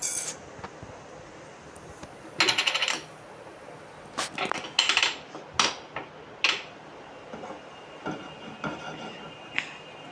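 Tempering spices tossed into a pan of hot oil, giving sharp bursts of crackling and popping that come in clusters with quiet gaps between them.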